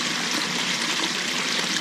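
Water spills steadily over into an aquarium sump packed with plastic cut pieces, plasticware and scrubbies, a continuous close rushing trickle like a small stream, with no voices.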